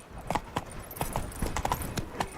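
Horse galloping in the video game The Witcher 3, its hooves striking in a quick, rhythmic clip-clop at moderate loudness with no speech over it.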